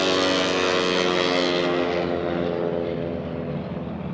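Racing airplanes at the 2022 National Championship Air Races roar past in a loud, continuous propeller-engine drone that slowly fades as they pass, with no talking.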